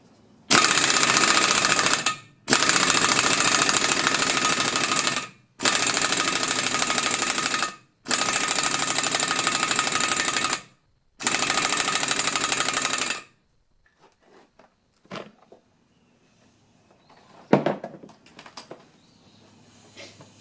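A compressed-air tool working on wheel studs of a 1973 Eagle bus fires in five loud, close bursts of a few seconds each, then falls quiet apart from faint clicks and handling noises.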